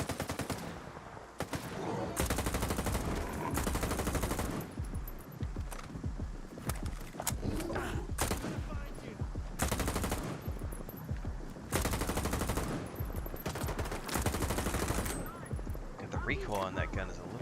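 Automatic gunfire in S.T.A.L.K.E.R. 2 comes in loud, repeated bursts separated by short pauses, with someone talking between and over the shots.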